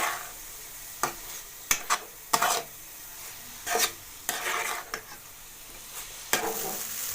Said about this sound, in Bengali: এবার আমি চিড়েটা এতে দিয়ে দিচ্ছি।